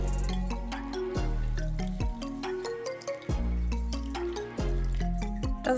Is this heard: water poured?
yes